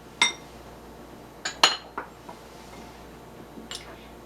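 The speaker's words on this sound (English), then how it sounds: "I'm just going to stir that together" A spoon clinks against a bowl several times while cocoa and dry ingredients are stirred together for cocoa gingerbread cookies, sparse sharp taps with quiet gaps between them.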